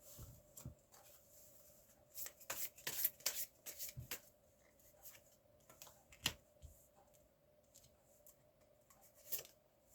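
Tarot cards are handled and shuffled in a series of soft, irregular rubs and flicks of paper, close by and fairly quiet, with brief pauses between bursts.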